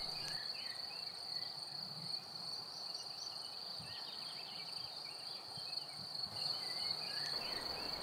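Crickets in a meadow chirp in a steady, high, continuous trill, faint and unbroken across the whole stretch with only soft low background rumbles.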